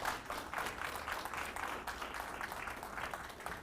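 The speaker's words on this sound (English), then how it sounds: "Give him your attention and give him your applause." Conference audience at Patriarch Con applauding as a speaker is welcomed to the stage, a steady wash of many hands clapping, heard from within the room at moderate volume.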